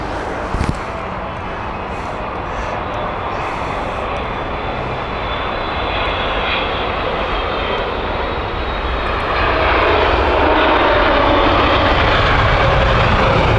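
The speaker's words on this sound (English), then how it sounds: "The 777 Air India is inbound next." An Air India Boeing 777 jet inbound at Heathrow, a loud sustained engine roar that builds and grows heavier toward the end, heard alone without speech.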